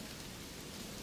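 Steady rain falls in the video game Deepworld, a continuous broadband hiss of drops spread evenly through the short stretch with no voices.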